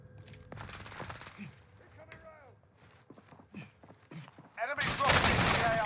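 Bursts of gunfire in a multiplayer shooter game, scattered shots and clatter building to a loud, dense barrage near the end, with a voice talking over parts of it.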